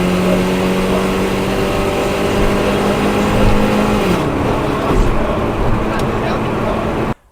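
Car engine at full throttle accelerating up a ramp, a loud steady drone with a rising tone close to the microphone, easing off after about four seconds before cutting off sharply.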